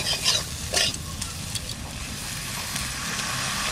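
Water poured into a sizzling vegetarian vegetable curry with ginger-chili paste, a couple of sharp splashy bursts near the start settling into a loud, steady sizzle and bubbling hiss with occasional stirring scrapes.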